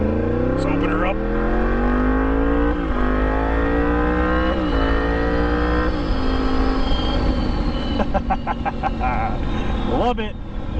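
Yamaha MT-10 motorcycle with an Austin Racing exhaust revving hard, a loud, continuous engine roar climbing in pitch with repeated throttle blips, then crackles and pops near the end, close to the rider.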